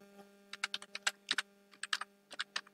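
Rapid clicking keystrokes on a computer keyboard while typing a website domain name, irregular bursts of close, crisp taps over a faint steady electrical hum.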